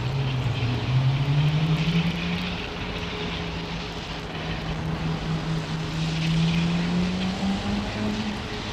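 Airliner with big Rolls-Royce Trent engines at London Heathrow Airport, a steady distant jet roar with a low droning tone that slowly shifts pitch, continuing unbroken throughout.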